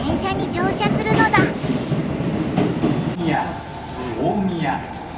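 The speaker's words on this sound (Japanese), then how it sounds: "今度は東武アーバンパークラインに乗車だ。" A Tobu Urban Park Line commuter train bound for Omiya rumbles steadily throughout the ride, a continuous low rolling noise underneath a voice talking over it.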